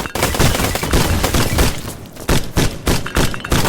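Turret gunfire in the video game Black Skylands, loud and close, with dense rapid volleys of shots and thumping impacts that break into short bursts toward the end.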